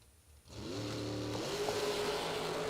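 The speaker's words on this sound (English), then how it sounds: "Madison Payne on her way down the track." Drag racing car launching down the track at a half-million-dollar event, a sudden loud engine roar bursting in after a quiet moment and rising in pitch as it pulls away, sustained to the end.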